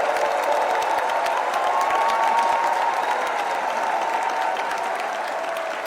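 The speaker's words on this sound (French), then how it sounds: "je requiers, s'il vous plaît, des calebasses d'applaudissements pour l'accusé et sa représentante." Audience applause at a comedy show staged as a mock village parliament, a dense, sustained wall of clapping from a large crowd with faint cheering, steady and loud throughout.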